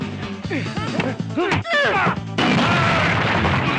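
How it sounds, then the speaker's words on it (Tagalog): A glass window shatters with a sharp crash in a Filipino action film scene, followed by a sustained spray of breaking glass, while people shout and talk loudly around it. "Yung bintana, nabasag!"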